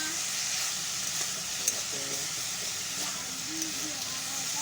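Pointed gourd curry ingredients fry together in a pan, giving a steady close sizzle and hiss with a few faint scrapes from stirring, while low background voices murmur.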